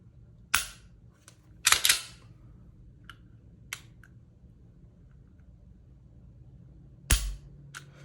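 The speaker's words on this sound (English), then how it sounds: "Manual safety, so let's go ahead and do the trigger" Dry-fire trigger pulls on a Smith & Wesson M&P Shield Plus pistol with a flat trigger and manual safety, giving sharp, close mechanical clicks: a pair of clicks early on, a lone softer click, then another crisp click near the end, with quiet between.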